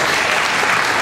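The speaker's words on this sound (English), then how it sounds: "Round of applause if you've ever heard it." Dense, loud audience applause at a hair-color industry event, continuous clapping from a large crowd that fills the moment without any voices.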